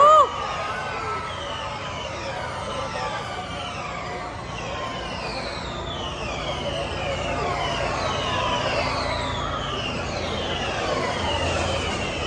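Formula E electric race cars speed past on a Hyderabad street circuit, each pass rising and falling as a high whistling whine, several overlapping sweeps with crowd noise beneath.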